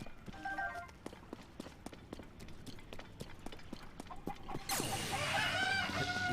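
Chickens in Zelda: Tears of the Kingdom cluck amid rhythmic clip-clop footsteps, followed by a loud burst of flapping and squawking near the end.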